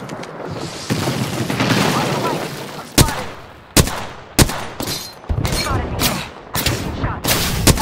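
Video game gunfire erupts in sharp, loud cracks, single shots and short bursts repeating irregularly. A voice talks quietly underneath.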